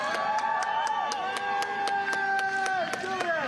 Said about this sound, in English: to the sound of cheering